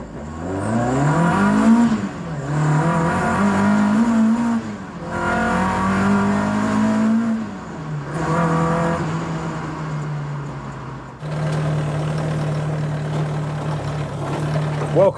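Mk1 Ford Escort engine revved in several rising and falling pulls, loud and close, then settling into a steady higher drone at the end.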